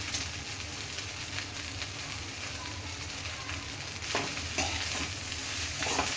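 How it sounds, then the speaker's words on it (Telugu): Fast-food-style egg fried rice being stirred in a hot pan, a continuous close sizzle with rhythmic scraping and tossing sounds that grow slightly louder toward the end, no speech. "అన్నం వేడెక్కేదాకా ఇదంతా కలవాలి"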